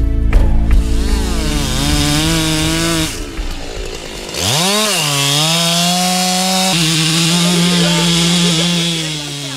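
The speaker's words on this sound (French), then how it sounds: "l'abattage est pratiqué à l'aide de tronçonneuses à chaîne" A chainsaw revs loudly and bites into wood, its engine pitch dropping under load, then climbing again as it cuts steadily.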